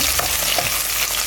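Onions frying and being stirred in a pan, with a steady close sizzle and soft scraping throughout a brief moment.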